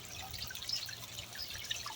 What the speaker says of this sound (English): Now you can see we have water coming out of both of them there.